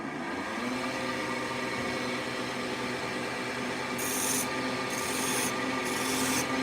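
A spindle gouge scrapes and rubs across a mahogany ladle, a continuous rasping drone with a few brief, brighter hissing strokes near the end.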